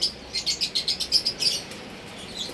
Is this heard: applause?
no